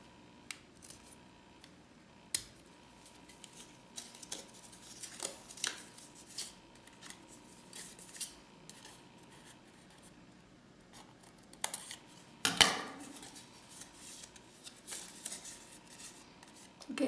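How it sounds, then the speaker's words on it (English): Scissors snip paper for a large craft peony flower, with quiet scattered sharp cuts and rustles at an irregular rhythm, heard close and faint. "Let me cut this more."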